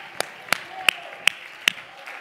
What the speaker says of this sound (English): Go ahead and praise him. Clap your hands.